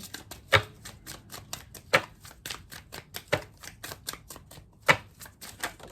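Tarot cards are shuffled and spill onto a table: a quick rhythmic run of light papery clicks broken by a few sharper slaps as cards fall, close and fairly quiet.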